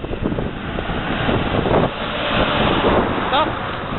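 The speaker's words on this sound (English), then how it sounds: "It's awfully windy today." Strong wind buffeting the microphone at Philadelphia airport, a loud continuous roaring rumble with gusty swells and no break throughout.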